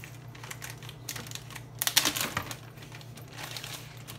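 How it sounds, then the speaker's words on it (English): Plastic baggie being handled close by, soft crinkling and rustling with a brief louder burst near the middle over a low steady hum. "I just have it in this plastic baggie."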